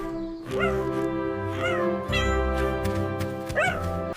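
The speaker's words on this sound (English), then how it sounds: "lets out a joyful howl as the kitten is safely reunited" An animated cartoon dog gives several drawn-out, tonal howls in succession, each rising then falling, up close and with no talking.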